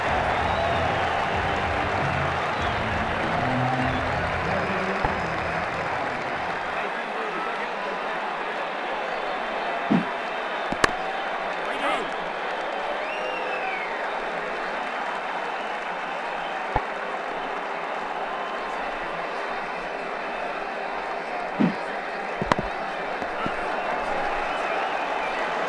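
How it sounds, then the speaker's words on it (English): Cricket crowd in the video game Ashes Cricket 2009 applauding and cheering, a steady broad wash of stadium noise throughout with a few sharp clacks, and commentary voices faintly beneath. "The crowd really enjoyed that."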